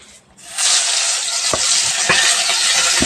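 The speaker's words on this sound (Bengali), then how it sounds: "এখন মাছগুলো দিয়ে দিব" Fish sizzles loudly after going into hot oil in a wok, a steady bright frying hiss that swells in after a brief quiet start, with a few soft stirring knocks and no talking.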